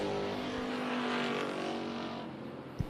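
Race cars run at Tucson Speedway, their engines blending into a loud, continuous drone with a steady pitched whine. The cars hold close without a distinct pass-by, and a small knock sounds near the end.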